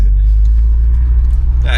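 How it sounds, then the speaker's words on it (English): A Volkswagen Golf GTI with a newly fitted exhaust rumbles close by, a heavy, steady low drone that holds throughout with a brief brighter rasp at the very end, while people talk over it. "He's just had his new exhaust fitted."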